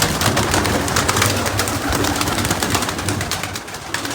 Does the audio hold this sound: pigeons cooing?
yes